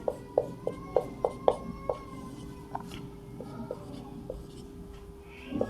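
Pen or marker writing down given values for a maths problem, a quick run of light taps and scratches, then slower strokes, close and quiet over a faint steady hum.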